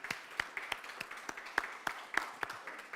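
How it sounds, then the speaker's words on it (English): Thin, faint applause from a conference audience greets a panelist walking on stage: scattered separate claps at an uneven rhythm, a small group rather than a full room, over quiet room tone. "Can I have to the stage Shara Beckley? Round of applause."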